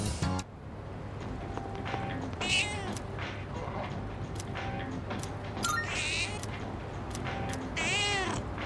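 A cat meows several times in the video game Persona 3 Reload, short mewing calls over a steady game background with soft effects, fairly faint and heard without speech.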